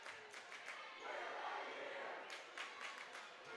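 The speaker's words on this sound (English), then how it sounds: "Pulaski's student crowd wakes up just a little bit cheering now" Student crowd cheering in a gym at a high school volleyball district championship match, a steady broad roar with bursts of shouts swelling near the middle and end, moderately distant.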